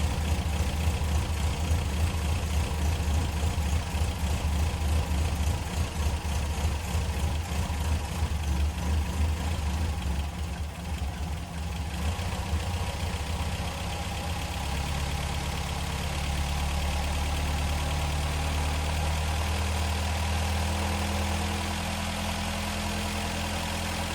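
A Mk3 Ford Fiesta engine idles on choke with a steady, loud low rumble that continues throughout, its tone shifting slightly partway through, and no talking over it.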